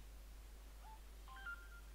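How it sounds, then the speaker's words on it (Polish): Short electronic SMS notification chime on a phone: a few quick clean tonal beeps, faint and alone over a low steady hum. "To był SMS"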